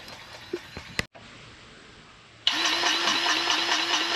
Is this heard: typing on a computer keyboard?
no